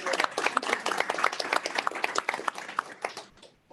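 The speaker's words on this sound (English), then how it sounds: "give him a round of applause if you will" A small group claps for a board member being introduced at a Board of Directors meeting, with distinct, fairly close claps that taper off after a few seconds.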